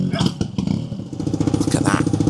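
A GasGas trials motorcycle picks its way over rocks, its engine putting out a close, choppy, throbbing burble with short revs and clattering knocks from the terrain throughout.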